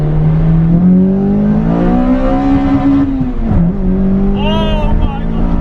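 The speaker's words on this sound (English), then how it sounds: "We have the car fully running and I've just driven it." A V6-swapped Toyota MR2 runs and drives, its engine note rising steadily as it revs up, dipping briefly, then carrying on loud and close-up inside the car.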